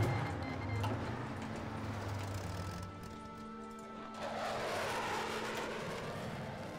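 Military aircraft in the strategy video game Hearts of Iron IV, set in modern-day warfare, making a steady, continuous engine drone that fills the whole stretch with no talking.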